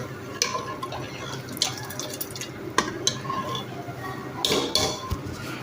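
A spoon stirs chickpea curry in a cooking pot, giving soft wet scrapes and clinks against the metal with a few louder knocks, close and steady.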